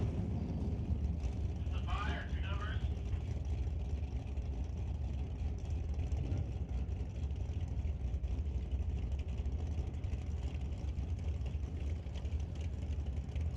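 At a drag racing eliminations event, a Ford pickup truck's engine drones low and steady in the staging lanes, a continuous, moderately distant rumble with an announcer's voice heard over it.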